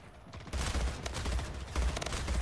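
Rapid gunfire from the video game Splitgate, a dense continuous burst of shots with heavy low thumps, loud and steady throughout with no pause.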